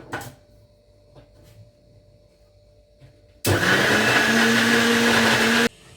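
After a quiet room with a few small knocks, a kitchen mixer grinder roars on loudly, grinding amla, mint leaves and ginger with water for about two seconds before it cuts off abruptly.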